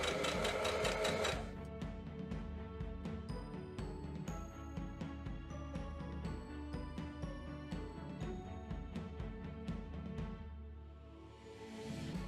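A sewing machine runs steadily for about twelve seconds as a curved seam of a dress is stitched, its motor whirring loudly and continuously, louder in a short burst at the very start, with no talk over it.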